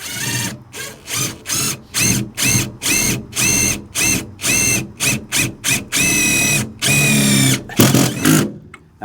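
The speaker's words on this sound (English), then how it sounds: "The hole's drilled." A self-tapping screw is driven through thin metal on a dump trailer with a power drill, in repeated close, loud whirring bursts of varying length separated by short pauses.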